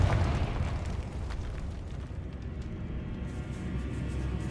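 A Confringo blasting spell explodes in Hogwarts Legacy inside a decaying catacomb, a loud, booming burst that keeps rumbling and crackling throughout.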